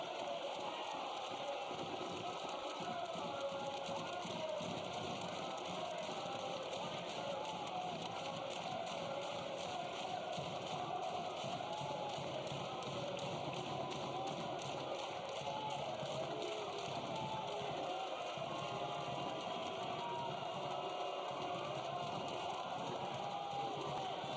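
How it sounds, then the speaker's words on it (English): A home crowd at a professional football match between Memphis 901 FC and Atlanta United 2 gives a steady, distant roar of applause and cheering, with a dense, continuous wash of noise throughout. "Good ruckus applause from the home crowd"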